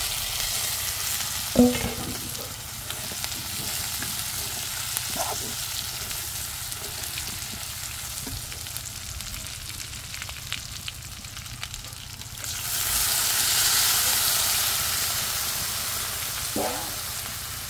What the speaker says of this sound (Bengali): পেঁয়াজটা আমার ভাজা হয়ে গেছে, এখন হলো আমি মাংসটা দিয়ে দেবো